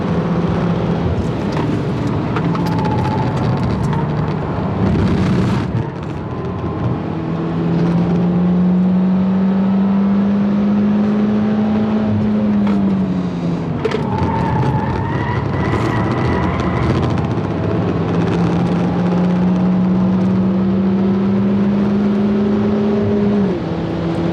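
A Peugeot 208 GTI lapping Donington Park race circuit, its engine droning loudly and rising in pitch through two long pulls, with gear changes and tyre noise between them, no talk.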